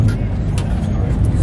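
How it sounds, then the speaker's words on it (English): A fully built Mazda Miata with a Corvette engine swap idles and drives at a Cars & Coffee meet in Morrisville, North Carolina, giving a steady, loud, low rumble throughout, with voices mixed in the background. "Yep, the Corvette engine Miata."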